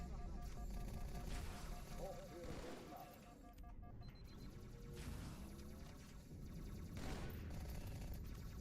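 Halo 2 video game combat, with busy automatic and plasma weapon fire and explosions crackling throughout under a constant noisy mix, louder near the start and end.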